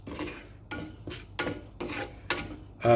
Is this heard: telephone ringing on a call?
no